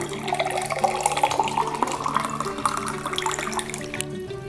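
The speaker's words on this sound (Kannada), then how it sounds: "ಸೊ ಈಗ ನಾವು ಅಷ್ಟು ನೀರನ್ನು ಹಾಕ್ಕೊಳ್ಳೋಣ" Water pours in a continuous stream into a large cup, about a litre for a neem-leaf herbal decoction, the gurgling tone rising steadily as the vessel fills, then stopping.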